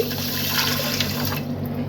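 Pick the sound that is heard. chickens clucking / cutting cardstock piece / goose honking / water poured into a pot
water poured into a pot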